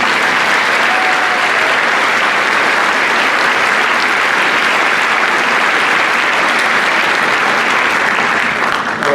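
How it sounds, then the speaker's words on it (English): A loud, continuous burst of clapping from a large audience at a high school Veterans Day program honoring Gordy, holding steady and full for about nine seconds. "Another round of applause for Gordy."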